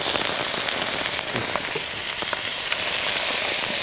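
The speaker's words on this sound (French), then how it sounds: "on va commencer à faire revenir nos lardons dans la poêle" Bacon lardons browning in a frying pan for coq au vin, a dense, steady hissing sizzle with faint crackles, fairly loud and continuous.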